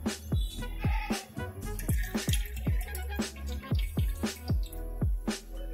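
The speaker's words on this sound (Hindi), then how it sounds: "कुकर गर्म हो चुका है अब तेल डालते हैं इसमें" Sharp sizzling crackles and pops with a series of repeated percussive ticks as oil is poured into a hot pressure cooker, continuous and close.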